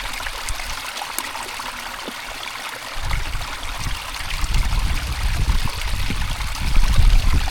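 A stream in England's Lake District flows and trickles close by, its splashing and gurgling water growing louder and fuller as the clip goes on.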